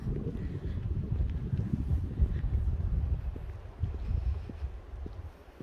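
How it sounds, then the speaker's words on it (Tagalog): Wind buffets the microphone outdoors during a hilly walk at Big Rock, a cold breezy spot, giving a constant low rumbling roar with irregular gusts and no talking. "Mahangin guys, malamig."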